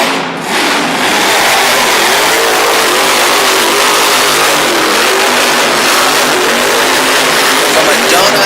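Monster truck engine roaring loud and steady at high revs during a freestyle run in Harrisburg, Pennsylvania, with a crowd and an announcer's voice layered underneath throughout.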